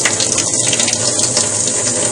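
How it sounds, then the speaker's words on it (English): Cold water runs steadily from a sink tap, a continuous loud hissing splash lasting the whole moment, heard alone without any voices. "So at this point, I'm going to turn on the cold water"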